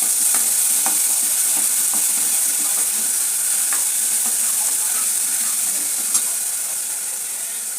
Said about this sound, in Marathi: त्याला आता परतून घेतो.